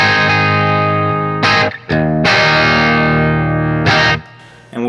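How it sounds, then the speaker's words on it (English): Electric guitar played through a Mesa Boogie Mark IV amp on its clean channel rings out in sustained chords and notes, with short gaps and pick attacks between them, loud and close. "We're going to be playing on the clean channel of my Mark IV here"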